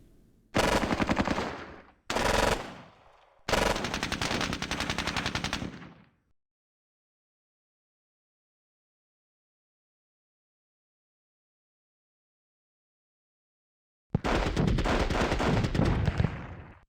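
Machine-gun fire in the World War II strategy game Squad Battles, set at the Red October Factory: three loud sustained bursts, then a long silence, then another long burst, with no talking.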